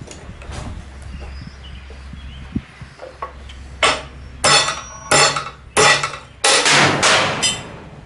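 A hammer hits a piece of quenched mystery steel held in a vise, four or five sharp loud metallic blows spaced about a second apart after some quieter handling noises.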